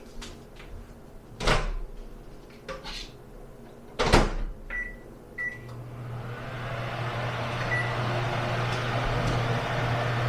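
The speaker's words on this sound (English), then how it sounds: "Now I'm going to be super chef here and put this in the microwave" A microwave oven door opens and shuts with a couple of loud thumps. Then come button beeps, and the microwave starts heating food with a steady low hum that keeps running to the end.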